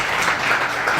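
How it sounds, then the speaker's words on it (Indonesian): A church congregation bursts into a short, dense round of applause for God, steady and close, with no talking over it. "Yang setuju tepuk tangan bagi Allah kita"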